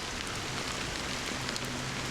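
Steady rain pours throughout a Honkai Star Rail cutscene, a dense even hiss of falling drops with no talk over it.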